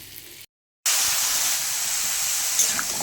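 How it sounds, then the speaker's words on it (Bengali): Prawns fry in a pan with pointed gourd, green chili, onion and chopped garlic, giving a loud, steady hissing sizzle close by after a brief silent break. "পটল দিয়ে বাগদা চিংড়ি করব, কাঁচা লঙ্কা আর একটু পেঁয়াজ আর 2 কোয়া রসুন কুচানো। খুব ভালো করে এটা ভেজে নেব।"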